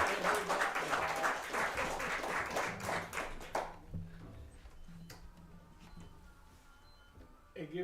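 An audience applauds at a live show, a dense burst of clapping for about the first half that then thins out and fades to quiet, with a little talk near the end.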